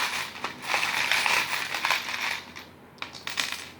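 Small metal charms are cast for a tarot reading, clinking and jingling against each other and a surface in a bright cascade, then settling with a few scattered later clicks, no speech.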